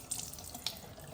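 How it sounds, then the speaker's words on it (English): Water from a tap rinses the mop pad of a Proscenic 850T robot vacuum, a steady splashing stream running into a sink, close and alone. "let's go ahead and run some water on it"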